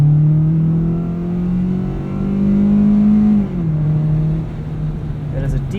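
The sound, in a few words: 2018 Kia Rio EX sedan engine accelerating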